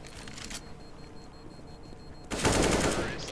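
AK rifle fire in a CS:GO esports match rattles in two quick bursts, a short volley at the start and a louder, sustained spray near the end, with quieter game ambience between.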